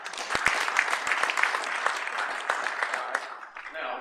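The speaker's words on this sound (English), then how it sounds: "Men only by applause" Men in a conference audience clap together in a dense, steady burst of applause that carries for several seconds, with a few sharper claps near the front and a faint murmur underneath.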